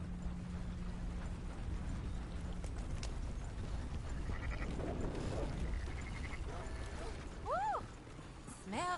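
Sheep bleating in Red Dead Redemption 2, a couple of short wavering bleats near the end over a steady outdoor bed of hoof clops and ambient noise.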